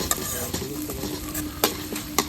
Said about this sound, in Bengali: এবার একটু মশলা কষাবো।